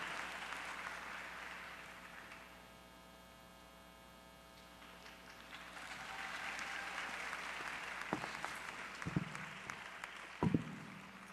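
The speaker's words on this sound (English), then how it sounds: "give a round of applause to the Honorable Mayor of this wonderful city" An audience applauds the mayor in a large hall, clapping swelling out of a low mains hum and building steadily with a few sharp bumps near the end.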